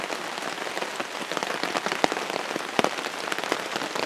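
Heavy rain beats on a tarp, a dense, continuous patter with occasional louder drops snapping sharply against the fabric, close by and with no voices.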